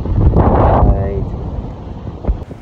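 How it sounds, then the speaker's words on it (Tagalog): Wind buffets a microphone outdoors on a scenic roadside in the BUDA highlands between Bukidnon and Davao, a low, rough rumble that stays constant with a voice briefly speaking over it. "ang sarap ng hangin dito, ang ganda ng view"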